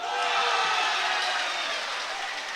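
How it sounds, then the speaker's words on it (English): The Monterey High home crowd cheers at a high school basketball game against Carmel High: a loud, steady roar fills the gym, easing off slightly toward the end. "The Monterey crowd getting into it."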